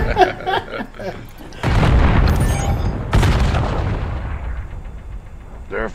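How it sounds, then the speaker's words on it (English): Grenades explode and guns fire in an online shooter game: two heavy, rumbling blasts, each trailing a long decaying roar, with crackling gunfire. A voice is heard briefly at the start and end. "They're fucking throwing grenades from the other side of the map."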